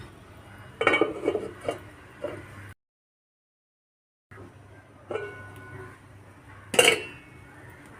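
A lid goes onto a pan cooking soft egg and maida pathiri in a home kitchen, with a cluster of close metallic clinks and clatters, a brief silent gap, then a few more light knocks and one sharp clank.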